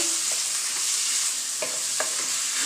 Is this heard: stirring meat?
yes